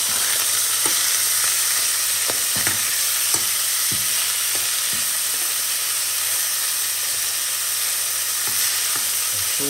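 Beef steak (roštěná) frying in a pan for roštěná with mushrooms, a loud continuous hiss and sizzle with scattered faint taps and pops, close and steady, no talking.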